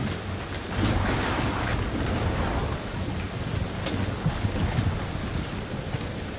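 A thunderstorm at sea in the horror game Man of Medan brings steady heavy rain and wind, with rolling thunder swelling early on and continuing as a loud, dense roar.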